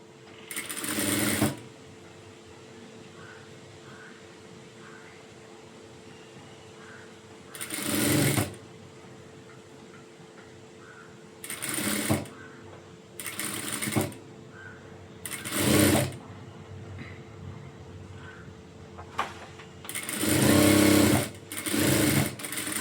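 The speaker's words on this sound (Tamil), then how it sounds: "அப்படியே இழுக்காமல் அந்த துணிக்கு மேலேயே இந்த துணியை வச்சு வச்சு ஸ்டிச் பண்ணுங்கள்." A sewing machine joins two blouse pieces in a series of short whirring stitching bursts separated by quiet pauses, with the runs coming closer together toward the end.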